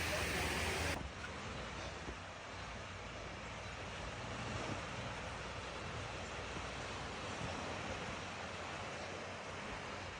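Waves washing onto the Lake Superior shore at Chapel Beach, a steady broadband surf wash mixed with wind, moderately faint and continuous throughout.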